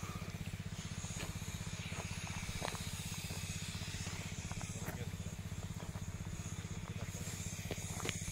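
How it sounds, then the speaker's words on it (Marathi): A sprayer working in a stony pomegranate orchard with onion intercrop, a steady hiss over a rapid pulsing motor drone, continuous and fairly close, with occasional faint clicks. "फवारा मारायचं काम चालू आहे"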